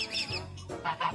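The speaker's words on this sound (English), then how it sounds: "The duck decides today is the perfect day to start an argument with someone 3 times its size." A farm duck squabbles with a much larger animal, giving loud, harsh honking quacks in a few bursts close to the microphone, with no talking.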